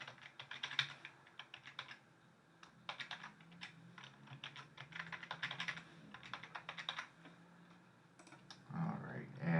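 Typing on a computer keyboard while setting up a virtual machine network in Azure, with bursts of quick clicking keystrokes separated by short pauses and a faint low hum beneath.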